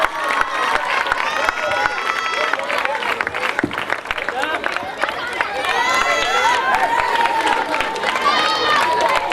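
A crowd at a cricket tournament prize ceremony applauds the best bowler with sustained clapping and cheering, while voices chatter and call out loudly over the claps throughout.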